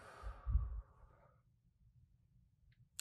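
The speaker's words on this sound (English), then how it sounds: "Just take a deep breath in and let it out" A slow, deep breath drawn in and let out, a soft airy sigh swelling near the mic and fading after about a second and a half, then near silence with a faint click at the end.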